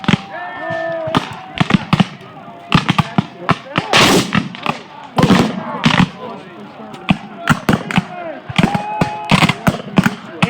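Rifle fire at the 160th Gettysburg battle reenactment: dense, irregular shots and volleys crack at close range, with shouting voices between and under the reports.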